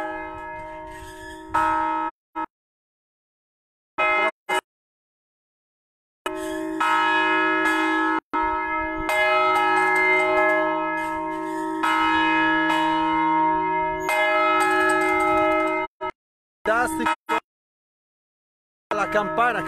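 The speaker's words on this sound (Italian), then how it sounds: "Campana, campana della chiesa di Crevenna." Church bell of the Crevenna church near Erba ringing, a series of loud, sustained resonant strokes with ringing overtones separated by brief silent gaps, heard alone without talk.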